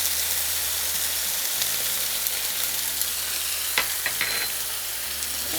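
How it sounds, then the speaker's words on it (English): Potatoes sizzling in hot oil in a skillet, seasoned with garlic, salt and black pepper, give a steady close crackle with a few sharp pops and stirring scrapes, no voices. "Once the oil is nice and hot, we're going to add our 3 potatoes"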